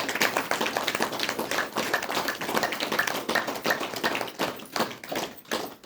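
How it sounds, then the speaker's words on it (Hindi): An audience claps steadily and loudly throughout, a dense patter of many hands with uneven sharp slaps. "पहले ताली बजा लीजिए"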